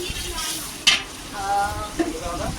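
Chicken with green chilies sizzles in a hot pan while being stirred, with sharp scrapes and clinks of the spatula against the metal over a constant frying hiss.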